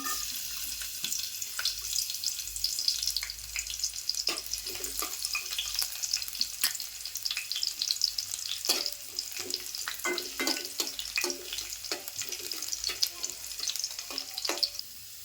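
Garlic fries in oil in a pan, a continuous close crackling sizzle with scattered spatters and light scraping throughout, with no voices.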